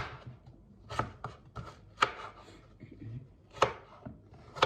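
A knife chops onion on a cutting board in irregular bursts of sharp, close knocks, with a few quieter scraping sounds between them.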